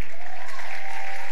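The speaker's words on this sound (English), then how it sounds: "I thought somebody would clap." A church congregation claps together during a sermon on praising God, a short burst of dense applause that fills the room.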